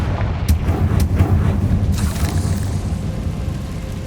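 Confringo fire spell blasting in Hogwarts Legacy, a loud booming explosion followed by several sharp cracking bursts and a rumbling, crackling fiery tail that gradually fades.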